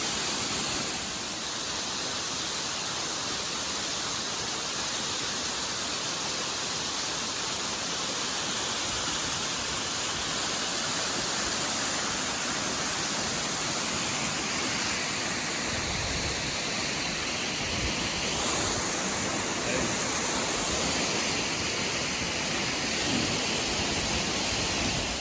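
Waterfall in the Appalachian Mountains, a dense, constant roar of rushing water heard up close, steady and loud throughout with no voices.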